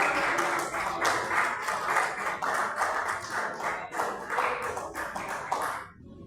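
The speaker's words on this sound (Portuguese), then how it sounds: "eu salve a igreja com as palmas bem bonitas do Senhor Jesus" A church congregation at a worship service claps hands together in a dense, lively burst of rapid overlapping claps that stays strong and then cuts off abruptly near the end.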